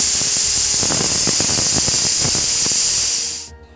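Pressure cooker whistle while cooking fresh pigeon pea sambar: a loud, continuous high-pitched steam whistle and hiss with rattling pulses underneath, cutting off abruptly near the end.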